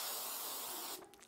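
An aerosol can sprays onto an abstract acrylic painting in one continuous close hiss that cuts off abruptly near the end.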